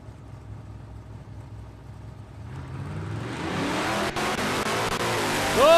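A nitro drag racing car launches down the dragstrip at Palmyra Dragway, a low distant rumble swelling into a loud, roaring engine blast that grows steadily nearer and louder.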